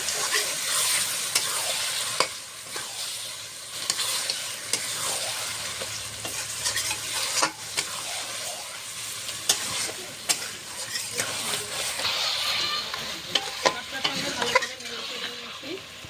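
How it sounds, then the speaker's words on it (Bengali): Goat mutton being stir-fried for kosha in a pan, a steady, loud sizzle with repeated scraping and stirring strokes running throughout, close by and without talk. "মাংসটা এখন ভালো করে কষিয়ে নেব"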